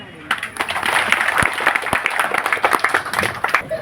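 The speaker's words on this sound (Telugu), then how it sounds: "ఒకసారి మీరు చప్పట్లు కొట్టండి" A crowd claps together at a temple festival, a dense run of hand claps building quickly and then carrying on steadily with a loose rhythm, loud and close.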